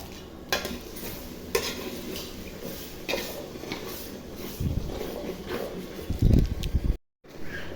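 A spatula scrapes and stirs masala in a pan with tomato sauce, tasty salt and a packet of Maggi spice mix, with a soft sizzle under repeated scraping strokes and a few heavier clanks toward the end.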